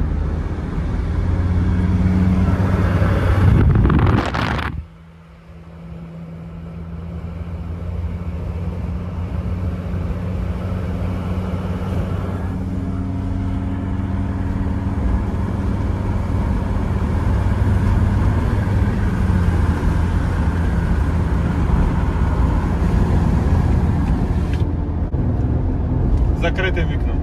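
A Jeep Grand Cherokee 2.7 with a straight-pipe exhaust drones steadily while cruising at speed, heard from inside with a brief dip in the sound near the start before the low, continuous rumble resumes.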